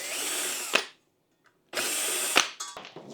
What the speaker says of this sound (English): take your Phillips screwdriver and carefully unloosen every single screw.